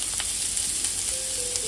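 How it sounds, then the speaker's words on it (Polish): Onions frying in a pan give a steady, close sizzle with faint crackles and soft stirring throughout, with no talking. "A na tej patelni będziemy podsmażać teraz tak cebulkę"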